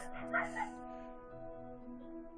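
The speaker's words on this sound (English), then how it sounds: "That dog in surround sound now." A dog in the video game Immortality gives a couple of short yipping barks early on, then fades under a steady tonal game soundtrack, fairly close and brief.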